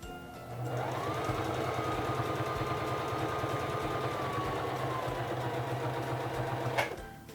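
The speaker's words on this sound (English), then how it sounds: "Bring down your presser foot and begin sewing" A Singer Fashion Mate 3333 sewing machine stitching a buttonhole runs in a steady, close mechanical hum with a fast even needle rhythm for several seconds, then ends with a brief click.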